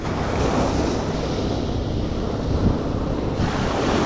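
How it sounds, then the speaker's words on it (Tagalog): Heavy ocean surf roars continuously at Guisguis Port, Sariaya, a dense wash of crashing water with wind buffeting the microphone, loud and close with no voices. "Laka na ng alon mga guys."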